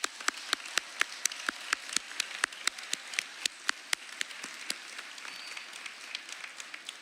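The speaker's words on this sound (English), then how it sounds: "please join me in giving a round of applause to the students" An audience applauds at a 5th grade ceremony, with a run of distinct sharp claps at first that thins into softer scattered clapping, moderately close and with no talk over it.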